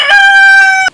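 One loud, close rooster crow, a sustained harmonic call about a second long that cuts off abruptly.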